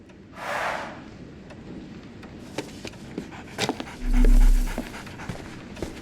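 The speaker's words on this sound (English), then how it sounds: "So, Barnes has a dog now" A dog pants in Sherlock Holmes Awakened, quick breathy huffs near and moderately loud, with a short whimpering tone near the end amid light background noise.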